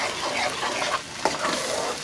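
Blended chile verde sauce hits a hot pan and sizzles loudly, a close, dense crackling hiss with a few sharper spits, no talk.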